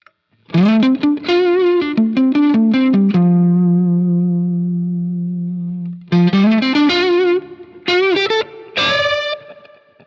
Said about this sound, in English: So that's a nice overdriven type deluxe sound.